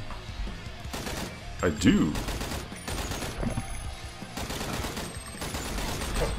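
Rapid gunfire from a video game shooter, bursts of shots repeating steadily through the clip while a voice speaks over it.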